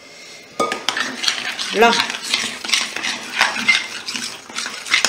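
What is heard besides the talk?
stirring tiramisu mixture in a bowl with a utensil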